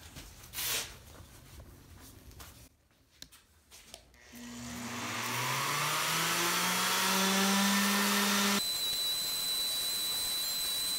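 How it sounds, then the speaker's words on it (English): A Milwaukee sander connected to a Festool vacuum, sanding a filled wooden surface flush, starts after a few quiet seconds and runs as a steady whining motor drone with rising tones, then drops to a quieter hum near the end. "we will sand this down flush"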